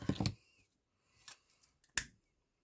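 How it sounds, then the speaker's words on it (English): Scissors snip off an excess length of ribbon while a hair bow is being made, giving a cluster of quick close cuts at the start, then two more isolated snips, the last crisp and loud, in near silence. "Cut that extra bit off"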